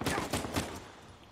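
Gunfire in Uncharted 4, a quick cluster of shots in the first half that trails off into softer combat noise, close and fairly loud with no talking.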